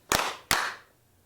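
Two sharp hand claps, close and fairly loud, about half a second apart, each followed by a short ringing tail in a quiet room.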